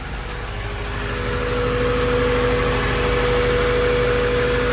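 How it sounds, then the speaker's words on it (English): A car engine idles steadily and close by, a low, even hum that swells slightly in the first second and then holds level, with no voices over it. "let's go ahead and start up the vehicle."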